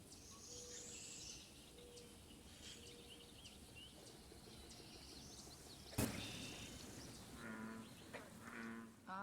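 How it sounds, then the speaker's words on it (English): American bullfrogs calling at a wetland, giving low, droning croaks under a steady chorus of insects and birds, with one sharp loud knock partway through. "the American bullfrog, eating anything they can fit in their mouths and making a huge racket"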